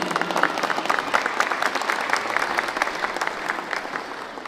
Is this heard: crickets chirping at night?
no